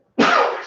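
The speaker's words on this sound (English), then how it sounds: "I have to sneeze though." A single close sneeze bursts out sharply and then tails off in a breathy rush, heard alone without talk.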